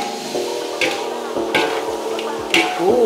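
Spicy salt-chili Kanzler nuggets, five packs' worth, are stirred in a pot of liwet rice, giving close, loud scraping and sizzling strokes with a few distinct clanks, and no voices.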